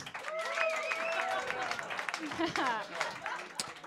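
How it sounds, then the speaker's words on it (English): Comedy roast audience clapping to vote, a moderate burst of applause mixed with whoops and shouts, fairly busy and close, with voices calling out over it. "If you're voting for Sam, clap your hands."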